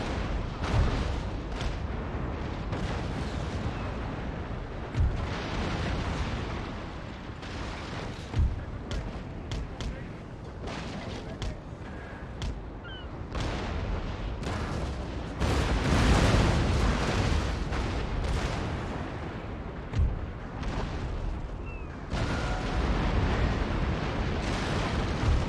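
Naval cannon fire in Napoleon: Total War, with the guns firing in a continuous dense barrage of booms and rumbling blasts that merge into one another, loud and sustained throughout.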